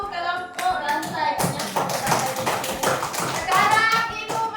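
Schoolchildren in a classroom clap their hands for a group, a short burst of uneven, close handclaps mixed with children's voices chattering throughout.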